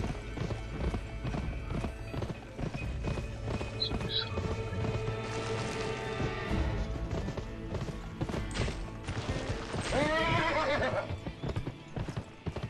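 In the video game Gun, a horse whinnies loudly over rapid clip-clop hoofbeats, with the neigh rising clearly near the end amid game noise and a voice speaking.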